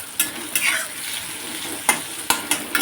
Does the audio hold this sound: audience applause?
no